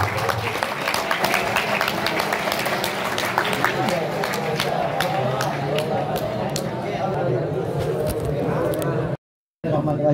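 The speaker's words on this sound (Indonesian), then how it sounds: "Tepuk tangan yang meriah" Lively audience applause at an Islamic boarding school ceremony for an overall champion student, dense steady clapping from a crowd lasting several seconds before a brief dropout.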